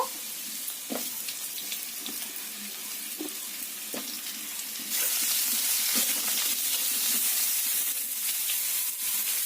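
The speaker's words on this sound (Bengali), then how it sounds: "বেগুন আর আলু খুব ভালো করে ভেজে নিতে হবে" Eggplant and potato pieces frying together in oil: a close, continuous hiss with scattered clicks of utensil stirring, the sizzle swelling louder partway through.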